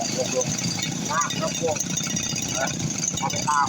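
A two-stroke RBC411 brush cutter engine runs at a steady, buzzy idle close by, an even drone throughout while people talk over it.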